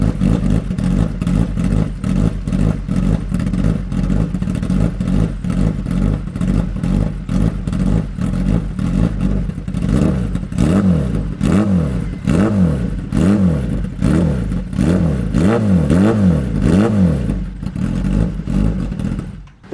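A Kawasaki ZX-10R sport motorcycle with an SC Project exhaust and titanium mid pipe revs hard and close, its engine roaring in repeated rising and falling blips over a steady loud idle, with no talking.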